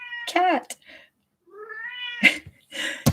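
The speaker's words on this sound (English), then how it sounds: "Want to see my cat really fast?" A pet cat meows several times indoors, the calls loud and close with rising and falling pitch, spread across a few seconds, with a person speaking in between.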